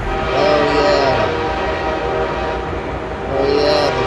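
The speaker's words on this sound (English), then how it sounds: "Oh, yeah, the train." A train rolls past with a sustained, loud horn blast near the start and another toward the end, steady rail rumble underneath, heard close with no talking.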